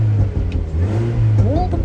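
A Mini Cooper S engine revs on a test drive, a steady throaty drone with a rising surge toward the end, close and fairly loud, with a voice faintly in the background.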